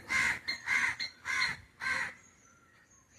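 Four harsh, nasal caws in a steady rhythm, loud and close, followed by a quieter stretch with faint background chirps.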